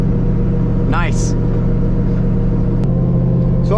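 A supercharged 2004 Ford Mustang Mach 1 engine runs with a loud, steady rumble and a brief rising supercharger whine partway through, then settles back to an even throb.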